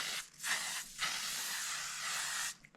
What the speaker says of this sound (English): I'm going to use my L'Oreal Infallible because this is a work day. Spray all that.